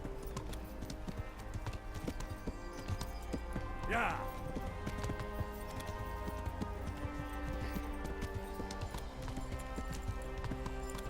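Horse hooves clip-clop at a gallop in the medieval video game Kingdom Come: Deliverance, a continuous rhythmic pounding under game music and someone speaking briefly.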